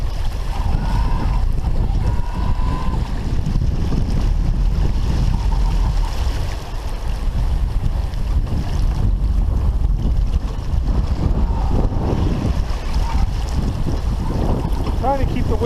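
A sailboat runs before the wind on Lake Huron, with loud, constant wind buffeting the microphone over the rush of water and waves along the hull, a little talking faintly heard beneath it.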